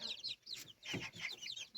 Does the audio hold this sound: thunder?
no